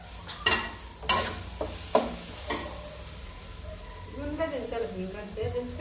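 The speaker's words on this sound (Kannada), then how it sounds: "ಮೀಡಿಯಮ್ ಫ್ರೈ ಮಾಡ್ಕೊಳ್ಳಿ ವೆಜಿಟೇಬಲ್ಸು, ಜಾಸ್ತಿ ಓವರ್ ಫ್ರೈ ಬೇಡ" Mixed vegetables sizzle in a pan for fried rice while a spoon scrapes and taps the pan in several sharp strokes, then the frying hiss carries on under a voice talking.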